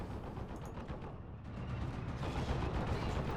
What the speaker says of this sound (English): The Panzerwerfer firing away once again.